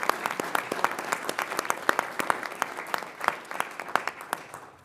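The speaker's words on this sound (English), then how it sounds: "We give them a round of applause." A small group at a board meeting claps for about five seconds, the individual hand claps sounding sharp and distinct, fairly quiet and spread out rather than a dense roar.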